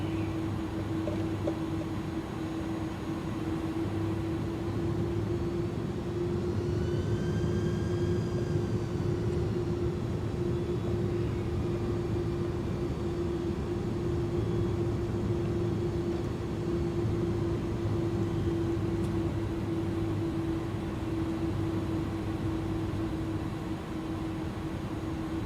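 An iniBuilds A300-600F freighter taxiing in Microsoft Flight Simulator 2020, a steady engine hum and whine droning on without pause, with a faint rising whistle partway through and no talk.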